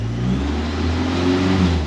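The four-cylinder engine of an old car idles at a smooth, steady mid-pitched drone, close and fairly loud, with no voices. It is either a 1937 Buick or a 1931 Ford Model A Coupe and has no oil pressure.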